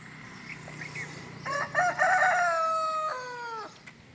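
A rooster crows once, loud and near, a long rising-then-falling call preceded by a few short clucks and quiet ambient noise.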